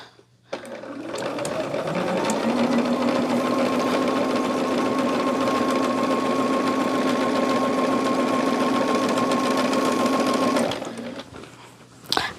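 A sewing machine runs steadily for about ten seconds, stitching a decorative embroidered stitch along quilt binding on Silverstone fabric by Robert Kaufman, with a close, even motor hum that starts and stops cleanly.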